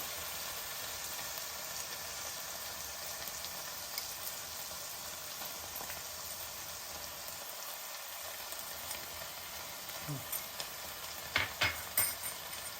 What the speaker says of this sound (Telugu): ఈ అల్లం వెల్లుల్లిపాయ పేస్ట్ పచ్చి వాసన పోయే వరకు వేయించుకుందాం